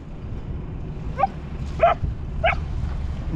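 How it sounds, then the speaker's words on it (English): A puppy gives three short, high yips spaced about half a second apart over a low, steady background rumble, at Crab Park in Vancouver's Downtown Eastside. "Be gentle, that's a puppy, Daisy."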